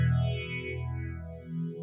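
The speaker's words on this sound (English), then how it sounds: "now I've got a 4-stage phaser with a little bit of detuning." Walrus Audio Vanguard phaser pedal set to a 4-stage phase with slight detuning, sweeping a sustained guitar chord with a swirling, moving tone that fades out, with no talking.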